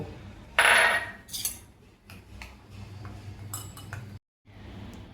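A ladle clinks and taps against a bowl while powdered milk is stirred into warm milk for Bengali rice payesh, with a bright scrape at first, then scattered light metallic ticks and a brief pause before stirring resumes.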